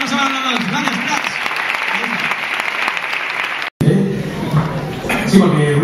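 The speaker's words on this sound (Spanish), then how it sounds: "un fuerte aplauso para todos" Loud applause from the audience at a sports awards gala, dense clapping that runs continuously, breaks off for a moment and then resumes with scattered voices and laughter.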